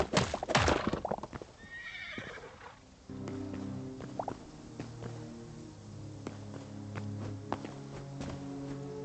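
A horse in the video game Hytale gives a loud, shrill whinny at the start, followed by a steady series of hoof clip-clops and low rumbling game sounds running beneath.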